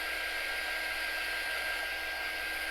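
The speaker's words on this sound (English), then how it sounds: "Keep the dryer moving so you don't melt that wax and mix it into your paint too much." A hair dryer blowing steadily and loudly at close range, heating wax on painted wooden fence pickets, with no speech.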